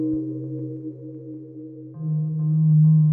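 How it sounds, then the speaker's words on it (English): A steady, pure sine wave from an oscillator holds a single low tone, then shifts to a slightly different pitch partway through, continuous and clean with no other sounds. "Sine wave."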